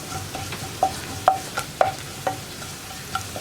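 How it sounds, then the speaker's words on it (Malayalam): A spoon stirs onions frying with chili powder in a pan, giving a soft sizzle broken by several sharp scraping knocks at uneven intervals. "ഈ മുളക് പൊടി ഒന്ന് കുക്കായി വരുന്നത് വരെ വീണ്ടും ഇളക്കി കൊടുക്കുക."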